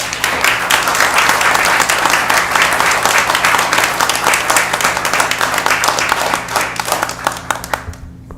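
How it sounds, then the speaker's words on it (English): A large room at a city council meeting breaks into sustained applause, many hands clapping loudly and steadily for several seconds before the sound cuts off sharply at the end. "Another huge round of applause."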